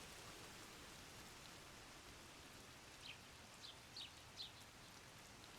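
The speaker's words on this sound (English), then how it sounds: "Well, it's raining." Rain falling in the game Zelda: Tears of the Kingdom, a faint steady patter and hiss, with a few soft bird chirps near the end.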